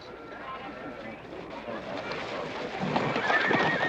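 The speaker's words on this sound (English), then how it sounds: "That Agamemnon's a good horse." A horse named Agamemnon whinnies and its hooves clip-clop, mixed with people talking and rising background noise that grows louder toward the end.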